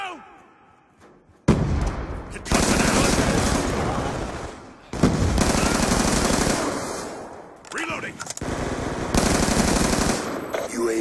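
Death Machine minigun from Black Ops 2 firing in long sustained bursts, loud and dense, with short gaps between the roaring streams of fire.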